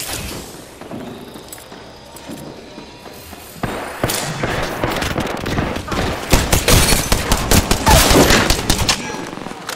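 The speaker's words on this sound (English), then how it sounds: "The enemies are shooting at me." Enemy gunfire in the shooter game Apex Legends, rapid overlapping shots and bursts growing louder and denser after a quieter start, with mechanical clicks and thuds mixed in.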